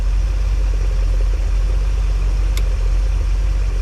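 An old RV engine idling hot after sitting for about 20 years, a steady low rumble that runs unbroken throughout with one faint brief click partway through.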